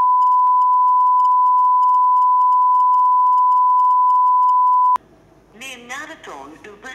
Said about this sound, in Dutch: Neem na de toon uw bericht op.